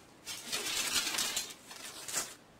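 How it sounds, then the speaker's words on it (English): Cocoa beans pour into a plastic bag with a soft rattling patter and crinkle, a short, fairly quiet spill of a couple of seconds with no talk. "get yourself a plastic bag and transfer the cocoa beans into it"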